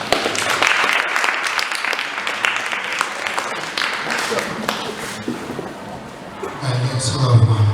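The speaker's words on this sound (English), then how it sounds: "Please give him a warm Melville round of applause." Lively audience applause on a late-night comedy show greets a psychic medium, with dense clapping that thins out after several seconds before other sounds rise at the end.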